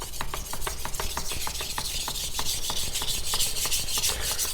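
A knife is sharpened on a polishing whetstone in quick, rhythmic rasping strokes, each a short gritty scrape repeating steadily up close.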